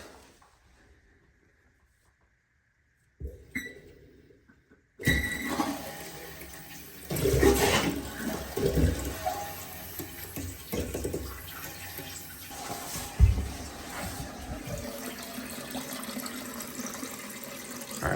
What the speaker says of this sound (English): it is now at this point that you can turn the water on and check for leaks. And the bowl will fill.